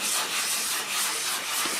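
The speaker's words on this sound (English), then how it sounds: "now Jeff is starting to do the wet sanding on the finish." Steady wet sanding across the cured lacquer finish of a 1947 Gibson L7 archtop guitar: a close, continuous soft rubbing hiss with slight swells in stroke rhythm, and no voices.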